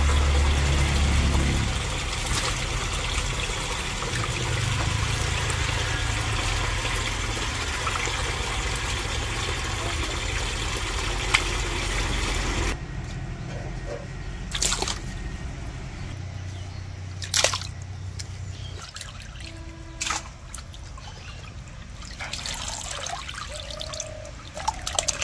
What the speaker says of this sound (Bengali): এখন হলো ধুয়ে নিতেছি।